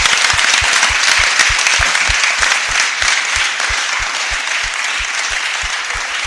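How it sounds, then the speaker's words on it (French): An audience at a church leadership conference applauding a speaker: dense, loud, continuous clapping with a steady rhythmic beat running through it and no talking on top. "Applaudissez pour le frère, le papa Samuel"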